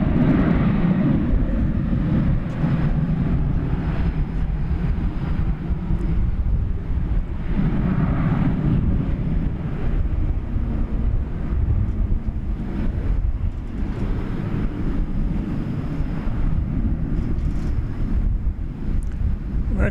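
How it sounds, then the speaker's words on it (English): An American Airlines Boeing 737-800 departs DFW International Airport for Reno on a breezy Monday night, giving off a steady, broad jet roar that runs unbroken throughout, mixed with gusty wind buffeting the microphone. "American Flight 1273 off to Reno, Nevada, a 737-800"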